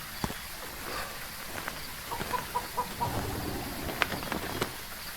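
Chickens clucking in the horror video game Phasmophobia, at the Grafton farmhouse: a few soft, scattered clucks and short bird calls over a faint, steady ambient background.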